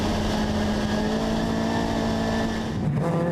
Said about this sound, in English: Just listening to that very distinctive engine note